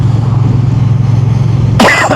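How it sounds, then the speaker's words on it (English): A single sharp cough bursts out near the end over a low steady engine hum. "I'm sorry for coughing"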